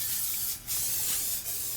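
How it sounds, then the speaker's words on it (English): A can of canola oil cooking spray hisses in two or three close, loud bursts separated by brief pauses, with no talking. "So I have canola spray."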